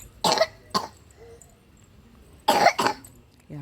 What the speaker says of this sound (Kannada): ಕೆಮ್ಮು